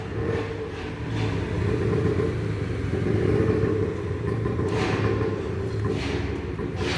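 A Massey Ferguson 165 tractor engine idles nearby with a steady low rumble while the throttle is adjusted, the pitch lifting and easing slightly in a couple of brief swells.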